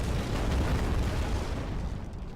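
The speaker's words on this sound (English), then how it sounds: "Drop ourselves to battle sail and give them the full broadside." A navy brig's full cannon broadside in a naval battle game, one sustained deep rumbling boom that rolls loud and close, then slowly fades.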